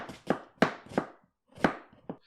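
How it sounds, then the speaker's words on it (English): A knife thinly slices a halved onion on a cutting board, giving about seven crisp, close chops in an irregular rhythm with brief pauses, each a sharp crunch followed by a knock on the board. "we have cut the onion in half, and then you want to cut it thinly like this, not too thick."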